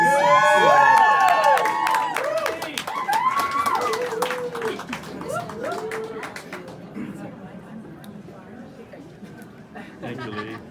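A crowd at a Hollywood museum Catwoman and Batman exhibit opening cheers, whoops and applauds, loud at first and then tapering off, with voices mixed in.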